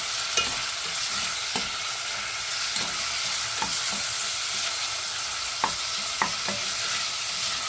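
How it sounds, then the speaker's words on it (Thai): Constant hiss of Korean tteokbokki with mushrooms and onion sizzling in a hot pan, punctuated by intermittent scrapes and taps of a utensil stirring, close and loud. "ฟังเสียงชีชีชีชีชี"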